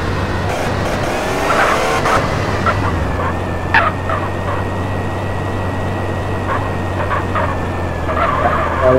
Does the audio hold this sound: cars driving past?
yes